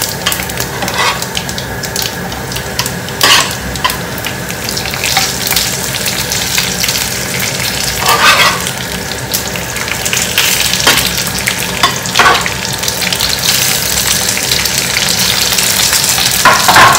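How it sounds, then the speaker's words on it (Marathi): Green chillies fry in a new biryani pot over a low flame, giving a steady, close sizzle and crackle throughout, with occasional louder spits and stirring scrapes. "आणि आता मिरच्या आपल्याला मस्त शिजू द्यायच्या आहे कमी गॅसवर"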